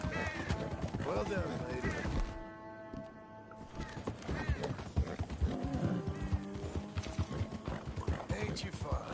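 Horse hooves clip-clop in a steady rhythm on the ground in Red Dead Redemption 2, with a mare snorting nearby while a voice speaks gently over the hoofbeats.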